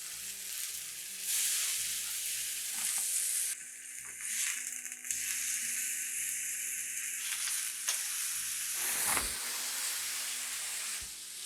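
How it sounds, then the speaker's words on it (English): A steak sears in a hot pan with a continuous loud sizzle and hiss, broken by a few clatters as it is moved. "I'm going to cook off this steak"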